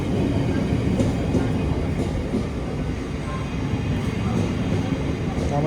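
Loud, steady low rumble of a train pulling into a London station, a continuous heavy roar without distinct rhythm, close by.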